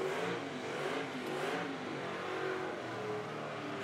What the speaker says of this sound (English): Look at the sparks flying off the rim here as he's grinding his way out.